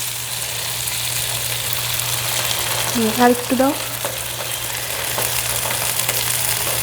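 Onions sauté in a pan for a chilli soya cutlet with a continuous close sizzle and stirring, a low steady hum beneath, and a short spoken phrase midway.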